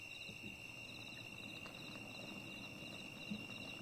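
Cicadas mixed with a light crackling wood fire, played from an EZVALO Lite 3-in-1 white noise machine: a steady, shrill insect buzz runs throughout, with faint, sparse crackle pops underneath.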